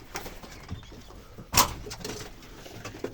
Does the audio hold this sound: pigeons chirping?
yes